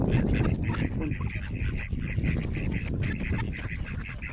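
Several ducks quack loudly and repeatedly in a busy chorus, nasal calls overlapping close by.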